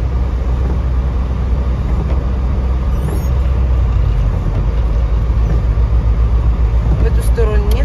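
Mostly freight trucks roll past in a snowy traffic jam, a loud continuous low rumble of engines and road noise with a brief hiss like an air brake.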